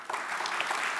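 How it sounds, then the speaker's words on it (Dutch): A moment of warm applause from a studio audience at a Dutch late-night talk show about privacy, welcoming a youth council: a steady wash of clapping through one second. "mag ik even een hartelijk applaus voor de Digi Jongerenraad."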